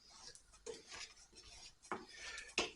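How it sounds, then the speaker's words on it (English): Sesame seeds dry roasting in a pan, giving scattered close clicks, light pops and scraping stir sounds at an uneven rhythm, with no talking. "get these seeds dry roasted so you can hear them popping already"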